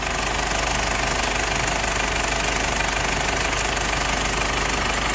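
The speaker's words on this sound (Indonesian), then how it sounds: "setelah selesai itu suara mesin jadi super halus" A Ford Everest diesel engine idles with a loud, steady, rattling clatter that stays constant from start to finish.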